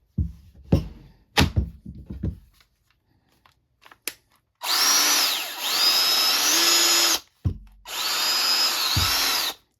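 A Bauer cordless 20-volt metal shear, not brushless, gives a few handling clunks and knocks, then runs in two sustained bursts of loud, steady motor whine with a short pause between them, with no one talking.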